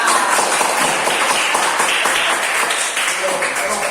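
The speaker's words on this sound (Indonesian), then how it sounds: "tepuk tangan untuk kelompok 3" Steady applause from a class for a student group, dense continuous clapping throughout, fairly loud and close.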